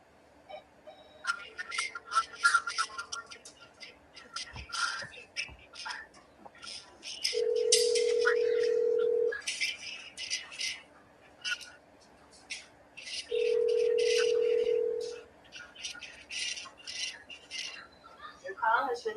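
Two steady electronic forwarding tones on a phone line, each lasting about two seconds, sound between stretches of conversation with people talking over a call.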